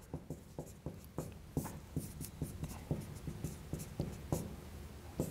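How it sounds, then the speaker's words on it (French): Chalk or pen scratches out quick strokes on a board during an algebra lecture on field extensions, a steady rhythm of close, crisp taps and scrapes for several seconds with no talking. "pour écrire vite"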